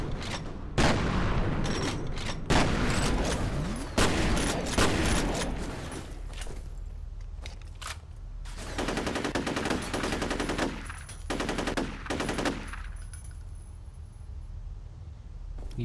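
Gunfire in the video game F.E.A.R. comes in loud, rapid automatic bursts with heavy booming shots, broken by short pauses and then resuming in repeated volleys.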